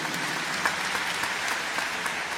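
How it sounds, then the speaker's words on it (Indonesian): Steady applause from a church congregation at a morning worship service, a continuous bed of many clapping hands at moderate volume with a few sharper claps standing out and no talking. "beri tepuk tangan untuk Tuhan Yesus."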